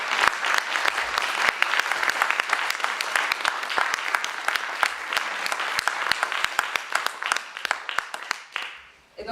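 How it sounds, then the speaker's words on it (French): Audience applause closing a round-table discussion at a university autumn event, many hands clapping in a dense, fairly close burst that thins out and fades at the end. "applaudissons-le"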